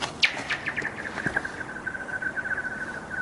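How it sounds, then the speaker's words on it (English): A rock-on-ice sound effect from the Sprunki music game: a sharp crack followed by a rapid run of bright, ringing chirps that slow and fade over about three seconds, played alone. "it's as if you threw a rock on ice"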